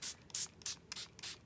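A spray bottle spritzing painted book page tags gives five or so quick, soft hissing puffs in an uneven rhythm, close and fairly quiet with no voices.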